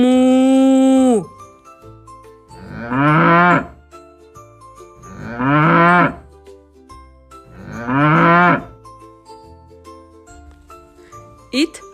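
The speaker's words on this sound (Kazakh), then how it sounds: "Сиыр мөңірейді." Cow mooing three times, each a long loud drawn-out low call separated by pauses, preceded by a sustained tone and followed by a brief tinkling sound.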